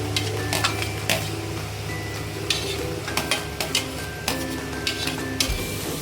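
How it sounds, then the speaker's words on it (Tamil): Onions sautéing in a pan for Tamil chicken kolambu, a steady low sizzle with a spoon stirring and scraping in repeated short clinks and scrapes. A brief voice is heard once. "ஆனியன் அதை போட்டு நல்லா வதக்கணும்."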